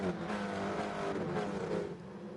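KTM X-Bow race cars in GT Sport roaring past during a championship race, a dense, continuous engine drone with rising and falling pitch, loud and close, with no talk over it.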